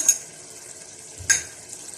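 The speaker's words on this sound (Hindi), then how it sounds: "इन तमाम चीज़ों को मिक्स करेंगे।" Macaroni being stirred with ketchup and vegetables in a pan, two brief scraping stirs about a second apart over a faint steady sizzle, close and quiet.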